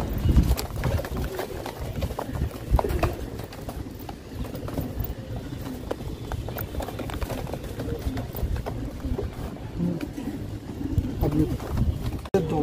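Pigeons coo repeatedly in a loft, close and continuous, mixed with rustling and people talking throughout.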